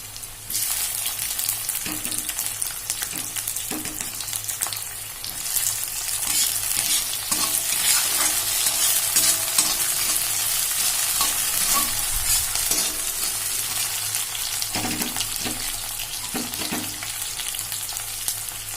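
Ingredients frying in a pan for a soybean and egg curry, with a steady loud sizzle and occasional stirring scrapes throughout, close up and without talk.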